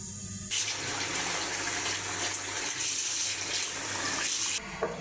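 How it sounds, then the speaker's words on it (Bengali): Beef being washed under running tap water, a loud continuous gush with splashing as the meat is rinsed, close and with no talk. "মাংসটা ভালোভাবে ধুয়ে নিছি"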